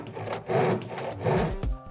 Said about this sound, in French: À partir de cette fine entaille, votre scie mordra en un rien de temps.